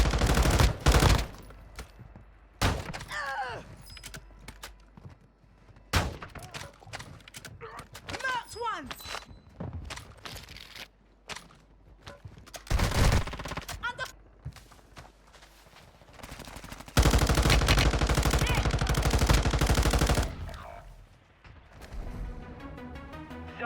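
Bursts of M13C rifle fire in Warzone 2.0 gameplay, loud rapid volleys separated by quieter gaps with footsteps and game sounds, plus a long sustained stretch of automatic fire near the end.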